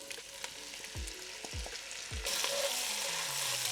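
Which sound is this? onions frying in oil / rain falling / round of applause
onions frying in oil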